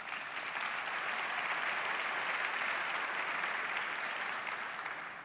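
Sustained audience applause fills a conference hall at a school-choice event, a steady dense wash of many hands clapping at even loudness throughout, with no voices over it.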